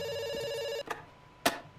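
Telephone ringing in the video game Dr. Langeskov: a steady electronic ring tone holds for under a second, then cuts off, followed by a couple of brief clicks and knocks in a quiet room.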